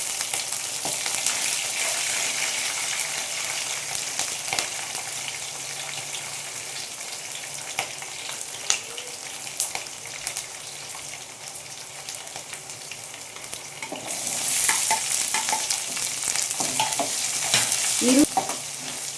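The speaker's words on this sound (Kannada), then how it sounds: "ಇವಾಗ ಮೆಣಸಿನ್ಕಾಯಿ ಹಾಕ್ತೀನಿ." Green chillies fry in hot oil in a pan for avalakki, giving a steady close sizzle with occasional clicks of stirring, and the hiss swells louder near the end.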